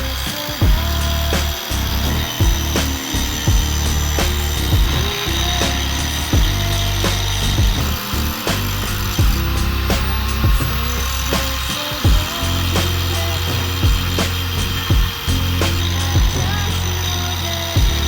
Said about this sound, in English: we need to shave down the studs to make the wheel fit